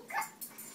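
A small dog gives a short, faint bark or yip indoors on a bed, one brief burst with a quieter trailing sound, heard alone at a distance.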